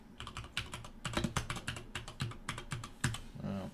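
Rapid typing on a computer keyboard, a steady run of close, crisp key clicks with a few heavier strokes, no voices.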